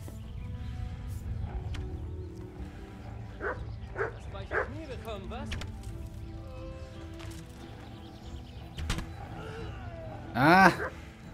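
Dogs barking in the medieval video game Kingdom Come: Deliverance, a few sharp barks and yips midway and a loud burst near the end, over ambient noise with someone talking.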